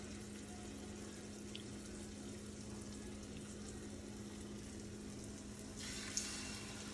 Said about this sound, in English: We got the oil hot in the pan, and now we're going to start putting it in here to fry